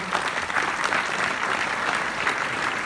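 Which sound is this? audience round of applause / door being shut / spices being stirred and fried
audience round of applause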